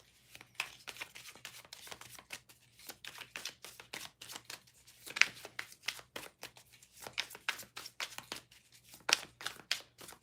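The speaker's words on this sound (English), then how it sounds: "you are loving the sound of the shuffling" A deck of cards is shuffled close up and quietly, with crisp riffling bursts and soft slaps repeating in an uneven rhythm over a faint low hum.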